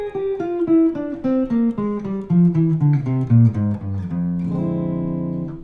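Guitar running a descending F melodic minor scale starting on D, clear single picked notes stepping steadily downward and closing on a held, ringing low note.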